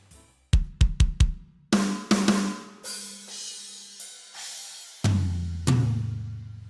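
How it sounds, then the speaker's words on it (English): Programmed metal drum kit from a free plugin with a custom preset: a quick run of kick and tom hits, crashing cymbals washing over, then a heavy low tom or kick accent near the end, alone without talk. "I decided to use the free ML Drums plugin."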